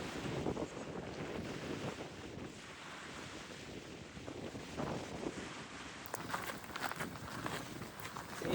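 Gusty wind roars into the microphone on the coast near Ullapool, Scotland, a steady rumbling buffet with surf-like swells, loud and close throughout.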